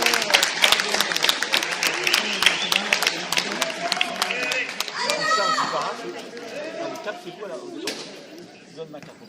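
Crowd applause and cheering at a wheelchair rugby league final, loud bursts of clapping with voices and chatter mixed in, thinning out toward the end.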